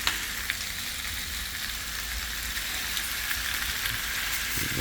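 Big chicken skewers with paprika flavour sizzle on a barbecue grill after a blast of oil, a continuous dense crackling hiss that holds steady and close throughout.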